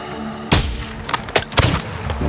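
Sniper rifle shots in the video game Modern Warfare 2: a few sharp, loud cracks with brief rumbling tails, spaced unevenly over a couple of seconds, with no talking.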